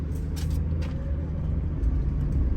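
A Chevrolet Trailblazer LT drives along with a steady low engine rumble heard from inside, the drone dipping briefly and building again as it shifts gears smoothly.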